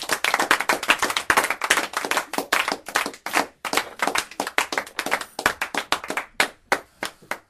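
An audience claps at a sinfonietta concert, a dense burst of bright, crisp handclaps that starts loud and full, then thins toward a looser, more rhythmic patter of fewer hands.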